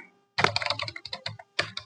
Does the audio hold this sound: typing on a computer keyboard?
yes